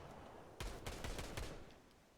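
Rapid bursts of gunfire from a Fortnite match, several sharp cracks clustered over about a second, faint and somewhat distant.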